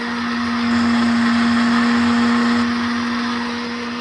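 An electric grinder grinding coriander and chilies whirs loudly and steadily, a constant close-up motor drone with a strong hum, running alone without any talking.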